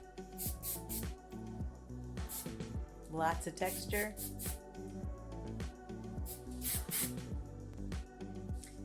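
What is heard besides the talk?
hair spray being sprayed on short hair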